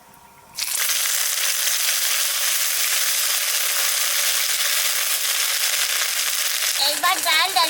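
Ginger paste hitting hot oil with bay leaf, dried red chilli and cumin for arhar dal with taro, a sudden loud, dense sizzle that bursts in after a quiet moment and roars steadily, with a voice near the end.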